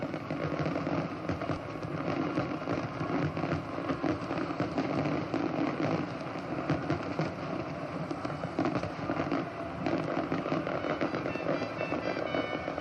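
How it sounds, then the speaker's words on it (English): Fireworks explode continuously at the 75th anniversary Royal Australian Navy Review display, a dense unbroken barrage of booms and crackling bursts that stays loud throughout. "The orchestration accompanying the exploding fireworks certainly added another stunning dimension to the display."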